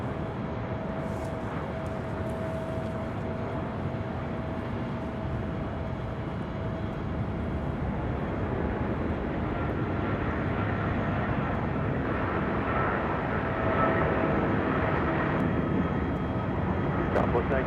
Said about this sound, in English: we got that 777 now rolling down 25 right